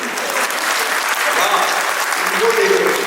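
Loud, dense audience applause fills the whole stretch at a kavi sammelan poetry and mimicry event, a continuous close roar of clapping with crowd murmur beneath.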